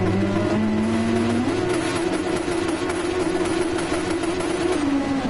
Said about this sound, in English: Engine revving.